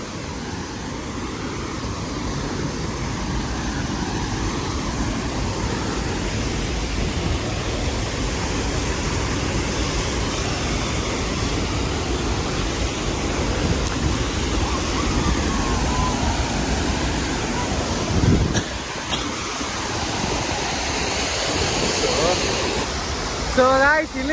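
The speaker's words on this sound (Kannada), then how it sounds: "ಅಲ್ಲಿ ಆ ಕಡೆಯಿಂದ ಫುಲ್ ನೀರು ಬೀಳ್ತಾ ಇರೋದು" Water at Mayasandra lake flows and spills over in a steady, loud, broadband rush that continues without a break for the whole stretch.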